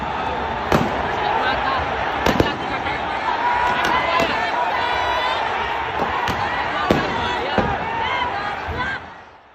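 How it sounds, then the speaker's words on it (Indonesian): Sharp bangs of police tear gas launchers ring out over a noisy stadium crowd at the Kanjuruhan disaster, roughly eight scattered shots across the stretch, some in quick pairs, with shouting throughout. "Ada 11 tembakan dilakukan Brimob pada fase awal ini."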